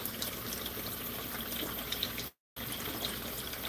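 Cold tap water pours steadily into a pot of eggs in a kitchen sink, a continuous gentle splashing stream that cuts out briefly and then resumes.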